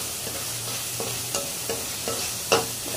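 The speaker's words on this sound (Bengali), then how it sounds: "দেখেন চিংড়ি মাছ বোনা করতেছি" Shrimp stir-fry in a pan with a continuous close sizzle, punctuated by several scraping and clattering stirring strokes at irregular intervals, without any talking.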